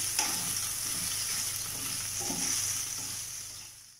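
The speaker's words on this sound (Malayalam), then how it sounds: "ഇഞ്ചി വെളുത്തുള്ളി കറിവേപ്പില പച്ചമുളക് ആഡ് ചെയ്ത് കൊടുക്കാം നന്നായിട്ടൊന്ന് വഴറ്റി കൊടുക്കാം" Ginger, garlic, curry leaves and green chilies sauté in hot oil for a prawn roast, giving a constant bright sizzle up close with faint stirring scrapes, then fading at the end.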